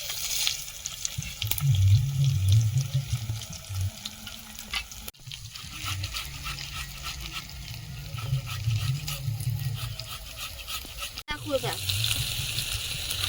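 Panch phoron spices sizzling in hot oil for a Bengali fish curry, a continuous crackling fry with stirring scrapes, steady throughout while someone talks over it.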